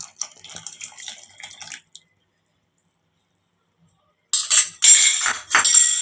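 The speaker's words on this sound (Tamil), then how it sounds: "ஒரு தடவை நல்லா கரைச்சி விட்டுட்டு நம்ம இதில் ஊற்றிக்கலாம்." Dissolved custard powder mixture is poured into a pan for an Arabian bread pudding dessert, a short liquid splashing and trickling pour close up, with a brief earlier burst of similar wet sound and a quiet gap between.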